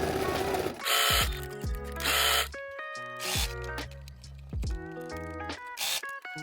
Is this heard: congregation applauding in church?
no